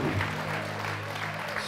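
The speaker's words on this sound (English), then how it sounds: "Clap for God and what he's doing in the nation of Kenya." Church congregation applauding in steady mass clapping, with a low sustained hum or organ tone beneath and voices mixed into the crowd noise.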